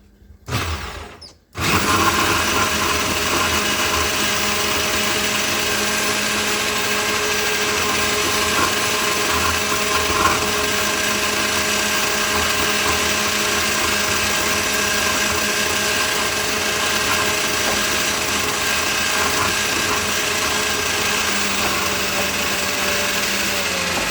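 A motorised grating machine shreds beetroot with a continuous high-pitched whir. It starts abruptly after a brief rattle and holds steady and loud throughout, with no talking.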